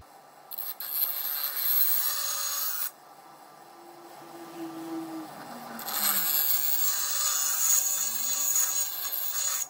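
A lawn mower blade from a curbside Rover mower is ground and sharpened, giving harsh rasping grinding in two long passes with a quieter stretch between them, close and loud, with no talk.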